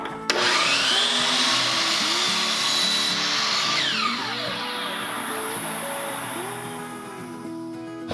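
A miter saw fitted with a CMT miter blade trims the edge off a wood board, a loud continuous whine that rises as the blade bites, holds through the cut, then spins down near the end.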